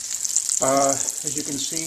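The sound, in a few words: veal brain pieces frying in pan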